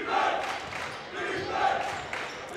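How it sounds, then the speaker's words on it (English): Crowd noise at a boys' high school basketball game between Triton and Lynnfield, a steady roar of fans that swells, dips near the middle and rises again, with no clear speech over it. "Crowd getting into it."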